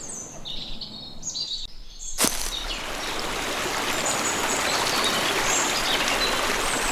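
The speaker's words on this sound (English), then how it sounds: "A river, which you can only hear when you get close to it." Steady rushing water of a river in an indie video game, beginning after a sharp click and rising to a constant close wash, with faint chirping calls over quieter ambience at the start.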